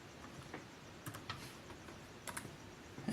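Commands typed on a laptop keyboard produce sparse, light key clicks in small clusters, quiet and close, ending with a firmer keystroke.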